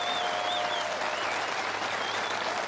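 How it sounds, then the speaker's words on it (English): Golf spectators at the Open Championship at Royal St George's applaud steadily on the tee, a dense, even wash of distant clapping across the whole stretch, with faint whistles on top. "Always gets a big cheer here at the Open."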